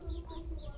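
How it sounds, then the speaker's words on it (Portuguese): A rooster on a Brazilian farm gives a few soft, short clucks and calls, heard faintly at a middle distance over low rumbling background noise. "Olha, é um galo, o nome do galo."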